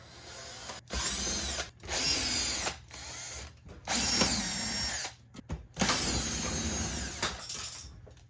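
A power drill backs screws out of the backing plate on a Vendo 39 Coke machine, in several bursts of whirring with short pauses between, close and clear, no talking.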